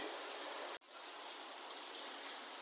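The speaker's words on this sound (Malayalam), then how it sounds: "നല്ല മഴ പെയ്യണ ഒച്ചയുണ്ട്." Heavy rain pours steadily outside a kitchen in a dense, hissing roar with one brief dropout, no voices over it.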